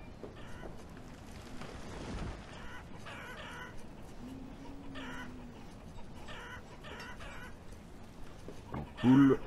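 Chickens cluck in a pasture in the Banished video game, soft scattered clucks and murmurs in a faint ambient bed, with a louder call near the end.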